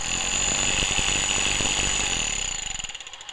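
A Harbor Freight SDS Max rotary hammer (item 69334) run in direct hammer mode gives a loud, steady rapid-fire pounding with a mechanical whine, heard alone and close, then winding down near the end.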